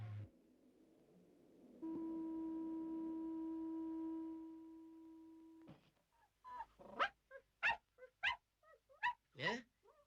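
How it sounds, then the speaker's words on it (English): A steady mechanical drone in a toy rocket landing sequence from the children's puppet show Torchy the Battery Boy, holding for several seconds before cutting off. Dog-like yips and whimpers follow close up, alongside some speech. "It sounds just like a rocket. Why? It is a rocket. and it's landing in my garden."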